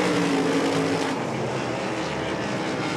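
Several race cars roar past together on the Devil's Bowl Speedway track, a dense, loud, continuous engine blare that swells and fades slightly as they pass.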